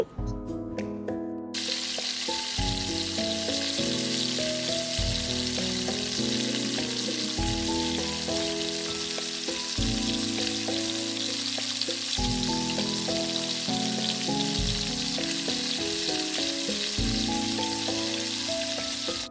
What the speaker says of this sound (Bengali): এই তো তেল ভালো মতোই গরম হয়েছে, আমি চিকেনগুলোকে দিয়ে দিচ্ছি।